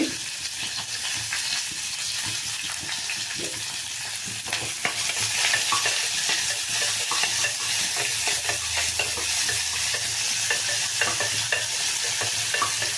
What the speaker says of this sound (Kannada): ಕರಿಬೇವು ಈರುಳ್ಳಿ ಸ್ವಲ್ಪ ಈರುಳ್ಳಿ ಫ್ರೈ ಆಗಲಿ